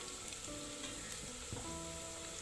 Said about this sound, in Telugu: కొద్దిగా అల్లం వెల్లుల్లి పేస్ట్ వేస్తున్నాను